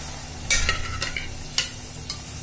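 Mutton pieces stirred and sautéed in a hot pan over high flame for an Agri-style mutton rice dish, with a few sharp scraping stirs over a steady low sizzle.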